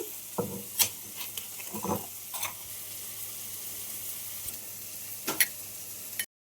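Something frying in a pan before garlic chili paste goes in for Andhra-style masala egg curry, a soft steady sizzle broken by several scraping and clinking stirs, near and fairly quiet, with no talking.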